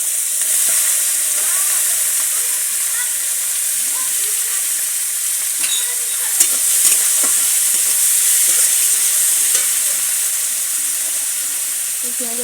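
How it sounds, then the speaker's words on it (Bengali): Chopped onions fry in hot oil left from frying vetki fish, with a steady, loud sizzle that carries throughout and occasional faint stirring scrapes. "এই পেঁয়াজের উপর একটু লবণ দিয়ে দেবো যাতে পেঁয়াজটা তাড়াতাড়ি ভাজা হয়ে যায়।"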